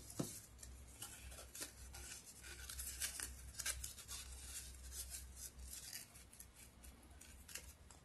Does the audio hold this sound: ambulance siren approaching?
no